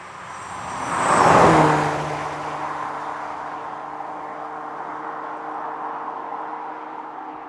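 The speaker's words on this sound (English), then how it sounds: "listening to the whining sound when the GT3 approaches us" A Porsche 992 GT3 prototype sweeps past at close range, a loud rising swell of engine noise peaking around a second in, followed by steady high-pitched whining tones that linger as the car moves away.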